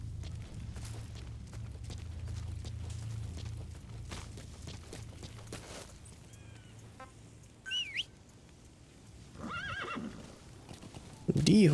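Hoofbeats and a whinny from D-Horse in the Metal Gear Solid V: The Phantom Pain game, with steady low hoof rumble early, then a short neigh near the end among faint bird calls.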